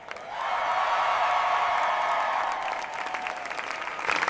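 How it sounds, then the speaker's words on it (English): A crowd outside a courtroom applauds and cheers at a verdict, a dense, steady wash of clapping that swells quickly, holds for a few seconds, then thins into scattered claps. "Some people cheer in celebration of the verdict."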